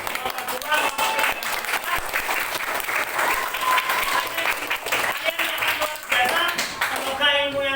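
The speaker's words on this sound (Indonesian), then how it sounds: "Tepuk tangan untuk kelompok 1," A classroom full of students applauds for the student groups, with sustained, dense clapping throughout, loud and close, and voices mixed in under the claps.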